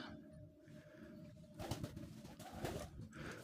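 Giribaz pigeons coo softly in a loft, with a few low murmuring coos rising over faint background noise.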